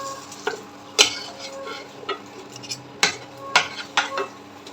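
A utensil cuts through an omelette on a plate, giving several sharp clinks and scrapes against the plate at irregular intervals, close and fairly quiet with faint kitchen background.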